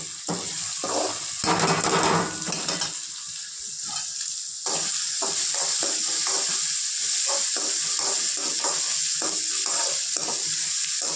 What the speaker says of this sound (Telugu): ఇలా ఆయిల్లో బాయిల్ అవుతూ ఉండాలి.